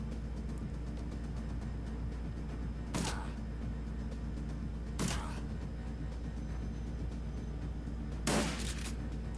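Shotgun fire in the video game Shadowrun: Dragonfall, with three sharp, separate blasts spaced a few seconds apart over a steady low hum.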